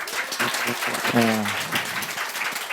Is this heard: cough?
no